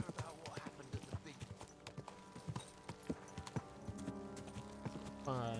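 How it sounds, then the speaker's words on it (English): Horse hooves clip-clop in a steady rhythm while riding in the video game Kingdom Come: Deliverance 2, close and fairly loud over a low ambient background, with a brief rising tonal sound at the end. "Horse riding is pretty difficult in this game."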